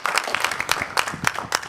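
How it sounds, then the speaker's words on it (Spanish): A congregation at an evangelical church service claps in a brief burst of applause, dense and fairly loud, with a faint voice underneath. "denle un fuerte aplauso"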